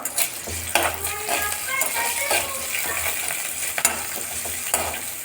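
Curry leaves hit hot oil in a pan while making sundakkai chutney, giving a steady, close sizzle and crackle with a few sharp pops and occasional clinks of a stirring spoon.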